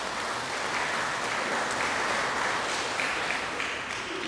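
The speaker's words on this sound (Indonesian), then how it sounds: "Kita beri aplaus untuk kita semua" A church congregation claps together in a dense, even burst that holds for several seconds, heard at a moderate distance with no voices over it.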